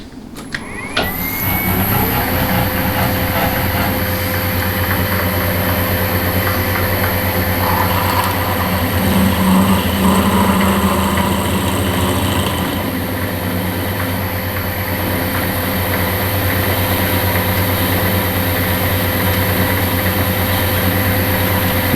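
A lathe drives a 3/16 HSS drill bit into a knurling-tool part on a Hemingway kit lathe: a steady motor hum with a droning tone runs unbroken throughout, fairly loud and close, with no talking.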